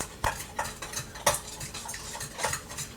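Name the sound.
fork blending egg and yogurt in a soup bowl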